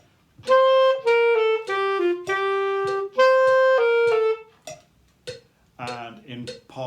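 Clarinet playing a slurred phrase from bars 49 and 50 of a seventh-grade band piece, a sustained legato line of connected notes, close and clear, followed by a few softer short notes and brief speech.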